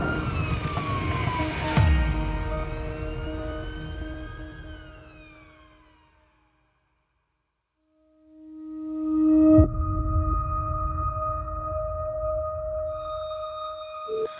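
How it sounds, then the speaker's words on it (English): An ambulance siren on a blue-light emergency run wails and sweeps loudly, fades into a few seconds of silence, then returns as a steady, close electronic tone. "Blue lights and sirens as fast as they possibly can."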